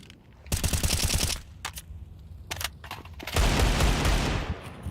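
Rapid bursts of Desert Eagle pistol fire in a Counter-Strike esports match, loud cracking shots in quick clusters, with a dense sustained volley near the end.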